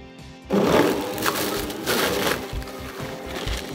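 A blender whirs loudly, churning and grinding orange and apple into juice in steady bursts after a brief quiet start.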